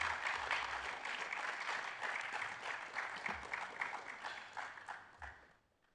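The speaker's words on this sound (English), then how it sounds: "Can I ask the audience, please, to put your hands together and appreciate him greatly?" A conference audience applauds in a continuous, fairly faint patter of many hands that gradually thins and dies away at the end.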